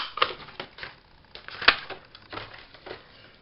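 A heart-shaped paper punch cutting through paper while crafting, a few sharp snapping clicks spaced apart, the loudest near the middle, close and quiet otherwise.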